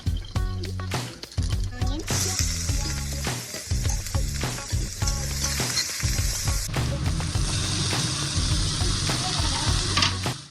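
Cumin seeds hit hot oil in a home kitchen, sending up a loud, dense crackling sizzle that keeps going for several seconds, with voices talking over the frying.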